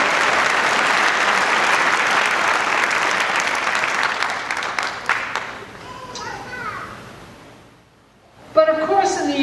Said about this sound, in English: Let's give them an applause too.